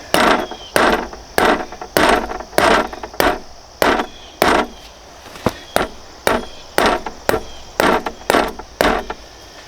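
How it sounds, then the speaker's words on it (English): Fence posts for a food plot being pounded farther into the ground, a steady series of about fifteen sharp, loud strikes at a regular rhythm with brief ringing after each, no talk. "I'm gonna pound these in a little farther."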